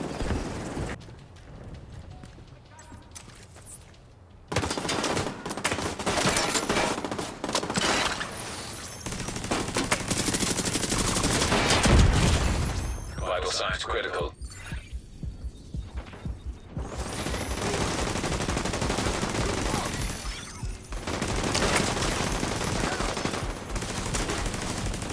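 Sustained gunfire in The Division 2, with dense rapid automatic bursts and single shots over a loud combat soundscape that keeps going almost without pause across the whole stretch.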